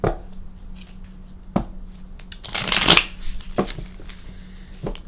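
Tarot cards are shuffled several times close by, with crisp riffling bursts, the longest one in the middle, separated by soft taps and handling noises.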